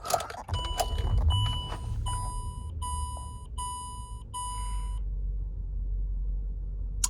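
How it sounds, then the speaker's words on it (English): A 2009 Range Rover Sport engine starting up: a low rumble rises into a steady idle while repeated dashboard warning chimes beep over it, then the chimes stop and the engine keeps idling. "All right, let's go ahead and fire it up, do a startup, listen to the motor."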